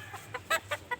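Short, sharp clucks from Boston-line hens on a game farm, four or five separate calls spaced across about a second, close and fairly loud against a quiet background.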